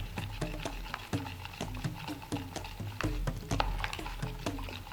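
Glycerin being mixed into distilled water for a homemade lotion, heard as a steady run of quick, soft clinking and swishing strokes up close, with no talking.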